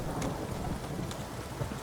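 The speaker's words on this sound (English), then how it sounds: "A storm, damn it." A storm in the Witcher 3 video game, with steady rain pouring and a low rumble of thunder rolling underneath, continuous and fairly loud throughout.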